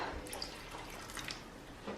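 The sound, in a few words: boiled water poured into tomato sauce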